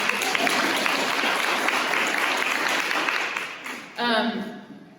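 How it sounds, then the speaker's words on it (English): An audience at a talk breaks into sustained applause, a full, steady wash of clapping that thins out near the end before a brief voice cuts in. "Can we have a round of applause for belonging?"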